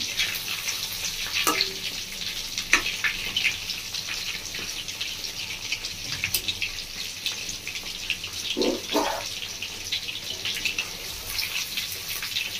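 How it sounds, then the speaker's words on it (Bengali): Chicken pieces fry in a pan with a steady, moderate sizzle, broken now and then by short clinks and scrapes of stirring. "চিকেনটা প্রথমে লাল লাল করে ভেজে নেবেন"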